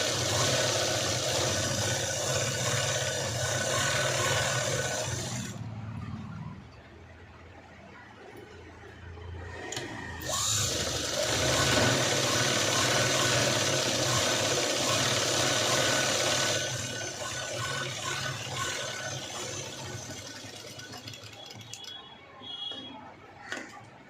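A sewing machine double-stitches the shoulder of a zip blouse, running in fast steady bursts with a short pause between runs, close and moderately loud with no talking.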